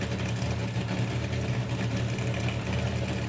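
A 1970-and-a-half Camaro nostalgia drag car with a spec engine rumbles at a steady, loud, throbbing idle at a drag racing festival, deep and continuous.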